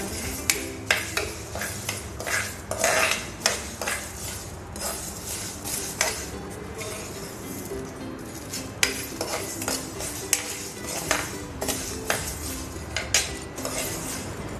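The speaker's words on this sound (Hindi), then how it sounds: "अब हम इसमें धनिया मिर्च डालेंगे, इसी में हल्के हल्के भून लेंगे" Fenugreek, coriander and chili roast in a pan while a metal spoon stirs and scrapes, giving repeated sharp clinks and knocks in an uneven rhythm over a faint sizzle, close by with no talk.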